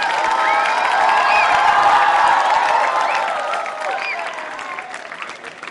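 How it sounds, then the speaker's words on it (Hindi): Audience applause at a school quiz show, dense sustained clapping with some cheering, loud at first and gradually fading toward the end. "तालियां जोरों से बजाइए।"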